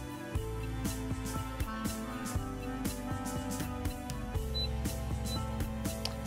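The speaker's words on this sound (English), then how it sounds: "please wait for the Z-axis as it lowers to the bottom" A Phrozen Sonic Mighty 8K resin 3D printer lowers its Z-axis toward the bottom, a quiet, steady stepper-motor whine with tonal hum and faint rhythmic clicks, heard alone.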